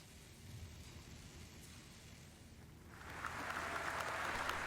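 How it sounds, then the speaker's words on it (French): Audience at the CitizenCon 2023 presentation breaking into applause, a dense wash of clapping that swells in loudly after a quieter stretch of room noise and holds steady. "Les gens, ils applaudissent"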